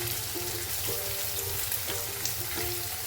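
Ginger garlic paste frying in a pan for lemon rice, a quiet, continuous crackling sizzle with light spattering pops under faint kitchen background noise.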